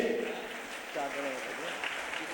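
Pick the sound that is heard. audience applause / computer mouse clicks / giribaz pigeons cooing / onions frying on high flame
audience applause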